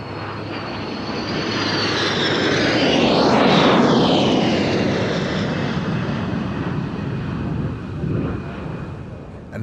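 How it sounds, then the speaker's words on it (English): An F-16 Fighting Falcon jet roars past at an airshow in Turkey, a broad loud rush that swells to a peak near the middle with a sweeping whine, then recedes into a lingering rumble with wind noise. "This, of course, is the F-16 fighting Falcon."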